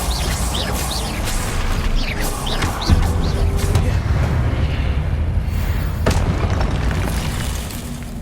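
A booming blast from the Confringo fire spell in Hogwarts Legacy lands with a sharp thump and a rumbling tail that carries on under layered game effects and ambience.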